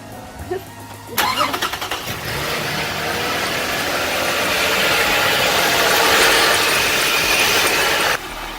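A Toyota Sienna with a newly replaced radiator filler neck cranks briefly and fires up, then settles into a steady, loud idle heard close with no talking.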